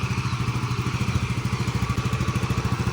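A Yamaha Mio MXI 125 fuel-injected scooter engine with a newly replaced transmission gear set runs close by, giving a loud, steady, rapid pulsing idle throughout.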